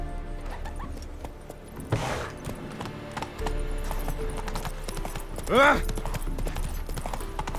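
Horse hooves clip-clop steadily through a Witcher 3 game scene, a rhythmic trot under a brief shouted exclamation and other game sounds, with a dog-like bark partway through.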